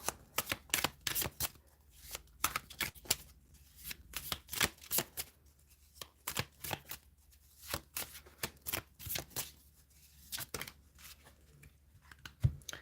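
Tarot cards being shuffled by hand, a steady run of crisp riffling and slapping bursts close up, repeating in short flurries with brief pauses, no talking.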